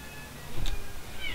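A house cat gives a single short meow midway through, moderately close against a quiet room background with no talking.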